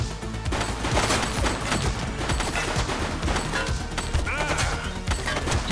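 Rapid gunfire in the police game The Precinct, with dense bursts of overlapping shots and crashes crackling loudly and continuously in the foreground.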